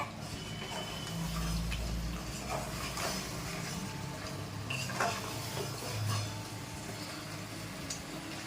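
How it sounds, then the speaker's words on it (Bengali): A spoon stirs mutton curry in a pot, with scraping and clinking against the metal up close over a low sizzle, a few sharper knocks standing out. "এইবার আমি এটা নাড়া দিলাম একটুখানি নাড়া দিয়ে"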